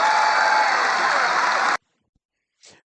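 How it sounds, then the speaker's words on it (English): Crowd at a President Trump rally in Iowa applauding loudly and steadily, then cut off abruptly into silence, with a short voice afterward. "President Trump got huge applause in Iowa, making those promises about E15"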